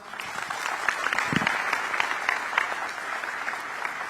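An indoor audience at a community gathering with the president in Singapore claps steadily in a dense, sustained round of applause that holds at one level throughout.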